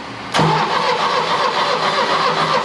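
A 1975 Chevy Vega Cosworth twin-cam engine, abandoned and sitting for twenty years, abruptly cranks and catches, settling into a loud, steady, rough running drone with no talk.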